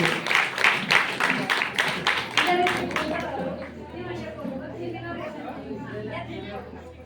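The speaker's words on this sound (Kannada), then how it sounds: "ಜೋರಾದ ಚಪ್ಪಾಳೆ ಇರ್ತದೆ" Audience at a Navaratri Dasara devotional program applauding loudly with rapid, rhythmic clapping that fades out after a few seconds, leaving murmuring chatter and a low hum behind.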